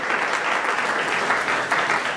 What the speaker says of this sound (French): Est-ce qu'on applaudit bien fort pour l'ambassadeur,